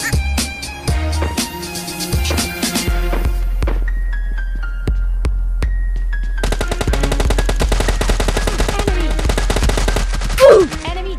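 Loud, rapid bursts of automatic gunfire in a PUBG match with scattered single shots, then a brief lull before dense, sustained rattling fire resumes close by.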